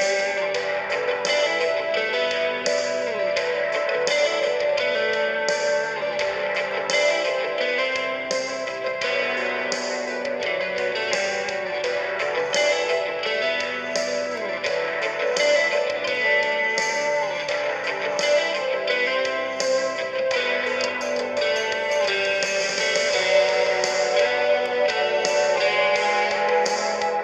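Music plays through the built-in speaker of a Minisforum AI X1 Pro mini PC, a steady, fairly loud stream with a thin, boxy tone and no talking over it.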